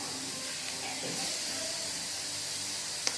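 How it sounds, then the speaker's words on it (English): Red peas simmer in a pot on the stove, giving a steady hiss and gentle bubbling that runs evenly throughout with no talking. "As you hear in the background, my peas is going"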